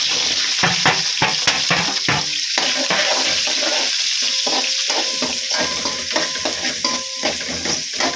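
Garlic, green chillies and onions sizzle and fry steadily in a pan for a Tamil fish curry, with intermittent stirring scrapes and clinks close by throughout, no voices.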